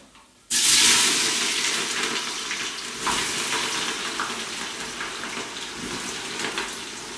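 Onions go into hot oil with whole spices for chicken biryani, cooked outdoors in snow. A sudden loud sizzle bursts in and then settles into a steady, close hiss that runs to the end, with no voices.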